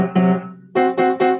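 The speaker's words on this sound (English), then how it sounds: "there was one interval in music. It's called a tritone." A tritone interval played on an instrument, sounded as a few short, bright sustained notes in quick succession, close and clean with no speech.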